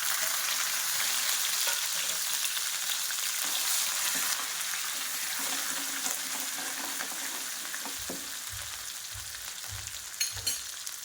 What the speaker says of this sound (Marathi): कुटलेली हिरवी मिरची घालत आहे मी